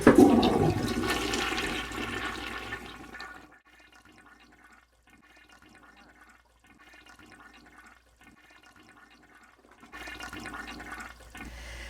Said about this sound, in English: So when I flush it,